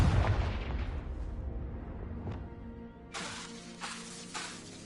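A Confringo spell blast in Hogwarts Legacy bursts with a heavy boom and shattering crack up front, then rumbles down, followed by a second sharper burst of crackling debris.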